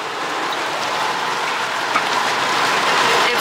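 Heavy rain pours steadily at a theme park during a stormy spring break, a dense, continuous hiss of drops striking surfaces at close range with no voices over it.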